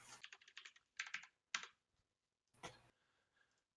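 Bursts of computer keyboard typing, quick clustered keystrokes in short runs separated by pauses, close and quiet with no talking.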